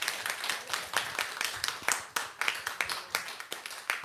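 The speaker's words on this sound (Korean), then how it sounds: "우리 목사님 나오실 때 박수로 환영하겠습니다" A church congregation applauds to welcome a pastor at a 20th anniversary thanksgiving service, brisk uneven clapping that carries steadily at moderate volume.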